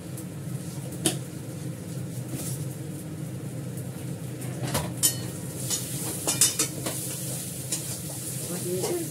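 Fenugreek seeds tempering in hot oil in a home kitchen pan, a steady soft sizzle running throughout with occasional clinks of a spoon and utensils against the pot.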